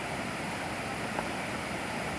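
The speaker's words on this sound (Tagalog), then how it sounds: "Ayan, marinig niyo yung ano ng tubig." The Karayrayan River flows beneath a hanging bridge in mountainous Mindoro, a steady broadband rush of water, faint and continuous throughout without any voices.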